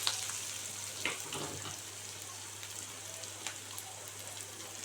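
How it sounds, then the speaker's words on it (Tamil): Onions and spice masala sautéing in a pan for a sweet potato dish, giving a faint, steady frying sizzle with a few soft crackles and a low hum beneath. "வெங்காயம் இந்த அளவுக்கு வதங்கினோடனே"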